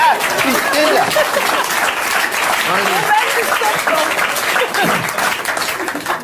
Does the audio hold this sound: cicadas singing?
no